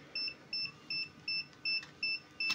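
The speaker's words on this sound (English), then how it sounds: "Both the hold and select buttons flashed and it emits a constant beeping." A UNI-T UT15B digital multimeter gives a high electronic warning beep that repeats seven times in an even, rapid rhythm, short tones with brief gaps, clear and close over faint background hiss.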